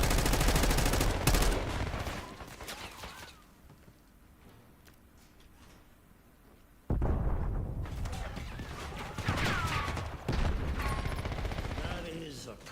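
Video game shooter gunfire with a friendly-fire hit, loud dense bursts at the start and again after a quieter middle stretch, with mechanical clatter mixed in.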